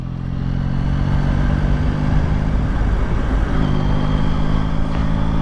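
A Yamaha MT-09 Y-AMT motorcycle ridden in fifth gear at low revs, a steady, loud, low engine drone mixed with road and wind noise that holds evenly throughout.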